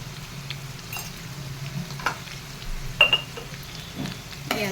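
Kofta curry gravy masala fries in a pan with a faint, low hiss, broken by a few soft stirring taps and clicks from close by.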